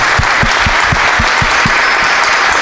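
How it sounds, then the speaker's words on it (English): Loud, sustained audience applause at a men's group gathering after a testimony talk. A series of low, regular thumps, about one every quarter second, runs under the clapping before fading. "let's give Tony another applause"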